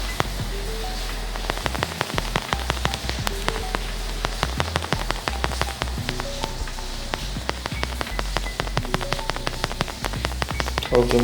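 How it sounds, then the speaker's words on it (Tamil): Rain falls in the video game Prison Escape Simulator, a steady patter of sharp drip and tap clicks scattered irregularly over a constant low background, with no talking. "ஓகே, மழை அப்படியே ஸ்லோ டவுன் ஆயிடுச்சு."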